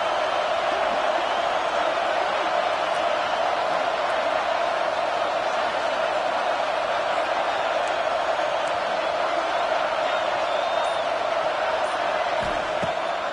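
A stadium crowd at a football game keeps up a loud, continuous roar of cheering that fills the whole space without a break.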